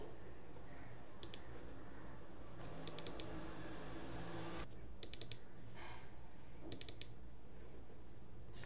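Computer keyboard typing in bursts of quick clicks, several short clusters of keystrokes spaced a second or two apart over a steady low background hum, close and clear, with no talk.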